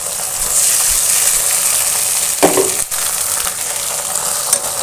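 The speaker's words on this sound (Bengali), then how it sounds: "আদা রসুন জিরা একটু পেঁয়াজ বাটছি" Ginger, garlic, cumin and onion are ground into a paste with a steady, rough scraping, joined by a sharper crunching burst partway through. No voices.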